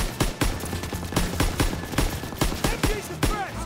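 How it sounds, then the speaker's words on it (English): Rapid bursts of machine gun fire in the World War II shooter Call of Duty WWII, loud sharp repeated shots in a steady rhythm, with no talking. "Gotta suppress the machine gun!"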